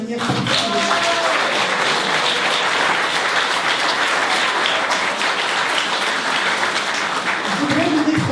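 Sustained applause from a large crowd fills the whole stretch, dense and steady, with a voice faintly audible near the end.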